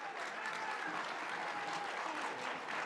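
A crowd at a Las Vegas Freedom Riders preview event applauds to welcome a congresswoman, steady, even, continuous clapping at a moderate distance with no break.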